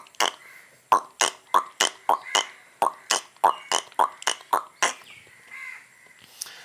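A performer on a comedy show imitates a frog croaking with his voice: about a dozen and a half short, sharp croaks in a quick, regular rhythm, close and clear, then trailing off.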